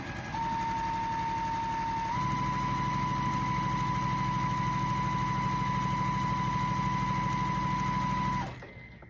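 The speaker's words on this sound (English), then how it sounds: "And I'm going to sew directly on that line." Sewing machine stitching a quilt block straight along a marked line, a steady close whirring drone with a constant tone that grows fuller after a couple of seconds and then stops abruptly near the end, with no talking.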